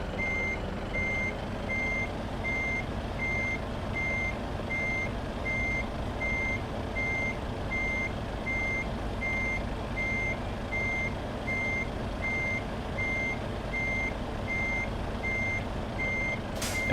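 Truck in the Euro Truck Simulator 2 game reversing, its backup alarm beeping in a steady even rhythm over a continuous low engine rumble, with no talk.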